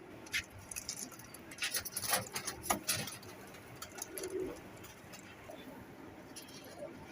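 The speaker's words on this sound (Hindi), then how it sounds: "ये बार बार आकर ना जाली में लगती है" A bater cross quail darts repeatedly against the wire mesh of its cage, producing a cluster of light rattling thumps and flutters close by, then calmer rustling. Faint cooing and chatter sit in the background.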